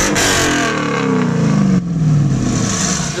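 Pontiac Trans Am revving hard through a new Borla 3-inch pipe-back exhaust, a loud, close engine note rising then falling with a brief lift-off before building again.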